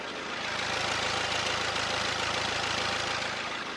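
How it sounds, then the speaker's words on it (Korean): A Korean-made SUV engine idles steadily with a smooth, even hum and a faint rhythmic pulse, continuous throughout with no voices. "그럼 바로 엔진 소음부터 확인해 보도록 하겠습니다."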